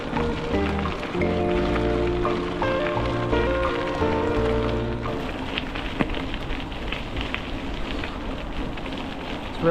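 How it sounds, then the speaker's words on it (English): Steady rain falls beside the River Severn in Britain, a dense continuous hiss that carries on after music fades out midway, with occasional sharper drips. "It's raining again."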